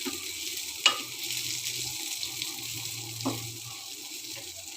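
Potatoes frying in a pan over a low flame, a soft, steady sizzle with a couple of sharp clinks of a utensil against the pan, quiet and without speech.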